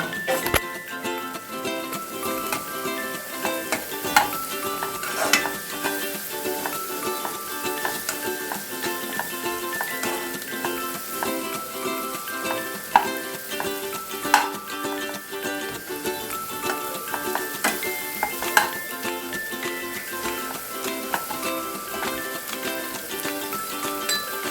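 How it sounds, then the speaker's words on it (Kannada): Chopped onions sizzle in hot oil in a pan for egg curry, a steady close crackling fry with occasional spoon stirs and clinks against the pan, and no talk. "ಅದು ಸ್ವಲ್ಪ ಫ್ರೈ ಆಗಲಿ."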